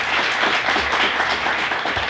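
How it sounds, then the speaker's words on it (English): An audience applauds a junior student being introduced at a school discussion event, with a steady wash of clapping that holds without letting up and no talk over it. "Give him a round of applause."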